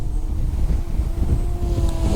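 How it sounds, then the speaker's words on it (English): An LYZRC L100 RC craft flying forward outdoors in warm, windy weather, with a steady buzzing motor hum mixed into heavy wind rumble on the microphone, continuous and fairly loud throughout. "So I'm holding back on the stick. The craft is flying forward."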